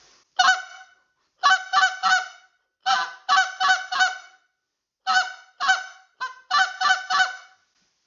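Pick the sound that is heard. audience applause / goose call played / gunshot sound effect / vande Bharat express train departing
goose call played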